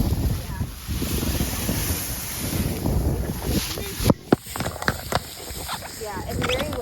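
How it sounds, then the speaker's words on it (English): Strong outdoor wind buffets the microphone in a continuous roar, joined near the end by a few sharp knocks and rustles, with a voice briefly speaking. "look, the wind is blowing."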